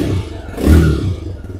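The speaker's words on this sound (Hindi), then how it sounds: "तो ये TVS Raider के एग्जॉस्ट का साउंड था" TVS Raider 125 motorcycle engine and exhaust idling close by, a low thumping burble that swells briefly with a small rev before settling.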